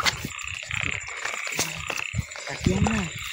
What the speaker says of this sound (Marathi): रिमझिम चालू आणि बेडकं ओरडत आहेत त्याच्यात